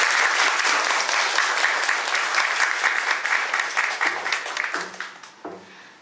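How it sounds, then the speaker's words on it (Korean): A concert audience at a live band anniversary show breaks into dense applause that starts full and loud, then thins into scattered claps and a few cheers as it fades toward the end. "박수와 함께."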